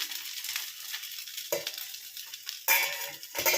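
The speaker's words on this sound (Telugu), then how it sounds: "నేను నా బ్రేక్ఫాస్ట్ దిబ్బ రొట్టె వేస్తున్నాను" Dibba rotte, a thick rice-lentil flatbread, sizzles in a pan at breakfast, with soft frying crackle and occasional sharp scraping bursts of a utensil against the pan, close and moderately loud.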